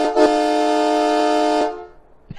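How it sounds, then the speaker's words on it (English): A loud truck-mounted train horn on an Illinois rig blasts once for about a second and a half, a rich steady multi-tone chord that cuts off cleanly with a faint click after. "My favorite, the train horn,"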